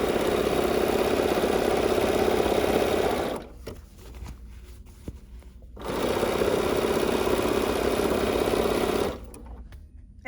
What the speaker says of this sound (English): So you just bring it back to your machine and you just finish sewing that area that